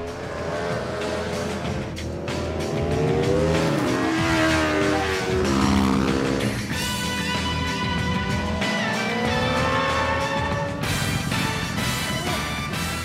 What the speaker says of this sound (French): professionnels et amateurs se partagent la piste lors de compétitions automoto ou comme ici lors de séances d'entraînement